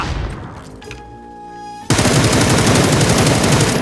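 PUBG battle royale gunfire: after a quiet opening with faint tones, loud rapid automatic shots burst in at close range and continue as a dense, steady volley.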